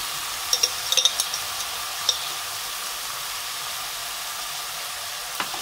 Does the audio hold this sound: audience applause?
no